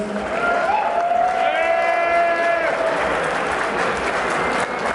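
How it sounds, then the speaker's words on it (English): A crowd claps steadily for several seconds for contestants at a bear pageant event, with a shrill whistle rising above the applause partway through. "So round of applause for all of our contestants."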